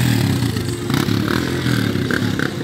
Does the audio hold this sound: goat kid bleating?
no